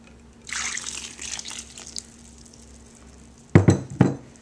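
Pie crust dough of flour, salt, oil and cold water being mixed in a bowl, with soft scraping and stirring, then two louder knocks of a utensil against the bowl near the end, no talking.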